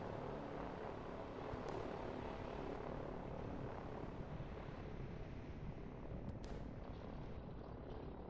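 Helicopters in the real-time strategy game Line War give off a continuous low whirring drone, steady and fairly quiet, with a couple of brief higher swishes and no talking over it.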